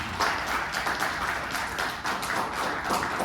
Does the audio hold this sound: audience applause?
yes